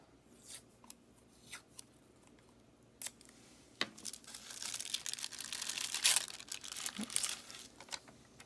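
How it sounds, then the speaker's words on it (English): An X-Acto knife trims the edge of a paper planner page, making quiet scattered scrapes and clicks that thicken into a denser crinkly rasp midway, with no voices. "I want to just cut off the edge of that."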